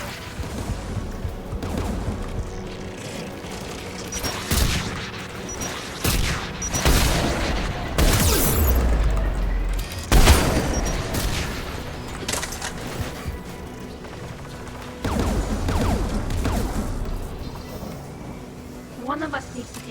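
Anti-aircraft guns fire in a video game battle, with heavy repeated bursts, booms and crashing impacts layered through the scene, loud and dense, while voices talk over the action.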